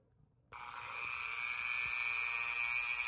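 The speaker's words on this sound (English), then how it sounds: "Have the Dremel, and I'm going to use it on a pretty low setting." A Dremel rotary tool spins up on a low setting, about to flatten a surface on a 2x2 puzzle cube, giving a steady, whining, nearby high-pitched hum that starts abruptly after a brief quiet moment.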